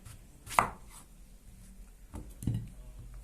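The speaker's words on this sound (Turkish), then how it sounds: "Hemen kabağımı ortadan ikiye bölerek işe başlıyorum." A knife slices a zucchini in half on a board for a Turkish sour zucchini dish, giving two quick chopping knocks about two seconds apart in a quiet kitchen.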